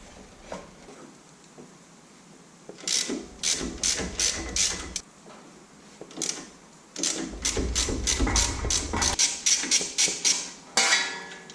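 A hand ratchet loosens 10 mm bolts during transmission removal on a Mitsubishi Lancer Evolution X. Two long runs of rapid metallic clicking come up close, separated by quieter handling noises.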